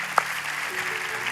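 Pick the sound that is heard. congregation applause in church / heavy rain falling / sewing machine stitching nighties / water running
congregation applause in church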